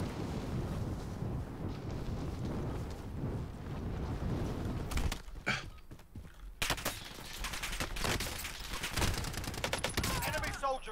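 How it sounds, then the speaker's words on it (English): Gunfire in Call of Duty: Warzone crackles in dense bursts over windy background noise, with rapid repeated shots growing sharper and louder in the second half. "People shooting at me."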